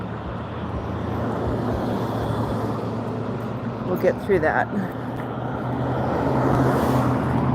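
Continuous road traffic rumbles past nearby with a steady engine and tire drone, while a person speaks briefly over it.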